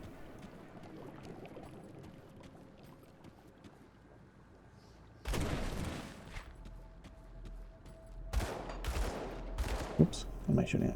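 Gunfire bursts in the Grim Dawn action game, a dense loud volley kicking in partway through, then several further sharp bursts near the end over a low ambient game background.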